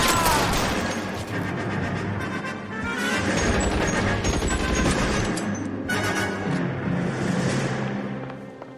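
Gunfire in the game L.A. Noire rings out in loud, dense volleys of shots and crashes, nearby and almost continuous.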